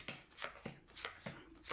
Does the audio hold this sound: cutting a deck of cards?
yes